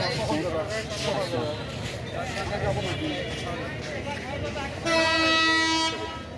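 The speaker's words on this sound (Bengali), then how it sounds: "রেল আসতেছে।" A train arrives at Santahar railway station with a rumbling, clattering approach under people talking, then a loud, sustained horn blast near the end.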